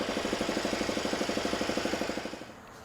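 A sander with 80-grit paper strips paint from a 1983 Kenworth cabover truck, making a loud, rapid, evenly pulsing grind that fades toward the end.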